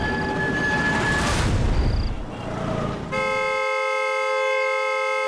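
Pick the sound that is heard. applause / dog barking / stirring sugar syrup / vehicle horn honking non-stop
vehicle horn honking non-stop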